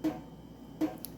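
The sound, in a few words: leaky faucet dripping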